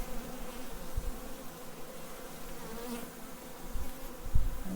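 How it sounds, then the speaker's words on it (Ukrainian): Honey bees buzz densely over the outer frame of a hive, a continuous close hum with small soft knocks near the end, and no voices. "Так само це дивіться крайня рамка, скільки бджіл."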